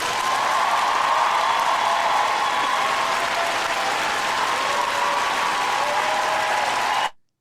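A studio audience gives a late-night talk show guest a loud, sustained round of applause, a thick continuous roar of clapping that holds steady for about seven seconds before cutting off abruptly.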